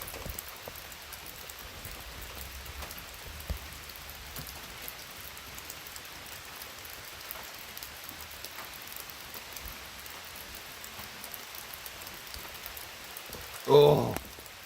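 Steady rain falling in a backyard, a soft continuous hiss of drops on surfaces with a brief louder knock near the end, no talk.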